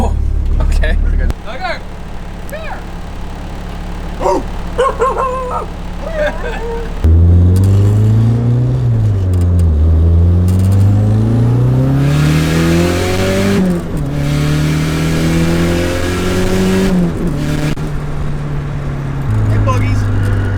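A turbocharged KA24DE-T engine in a budget hatchback revs hard and loud, climbing and falling through several sharp pulls with a rough, barking tone, after a quieter idle and brief voices at the start.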